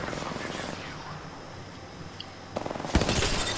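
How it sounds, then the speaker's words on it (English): Gunfire rattles during an online shooter match, with scattered distant shots giving way near the end to a close, loud rapid burst, and a player's voice talking over the game noise. "are you shooting him while he's shooting at me, for fuck's sakes?"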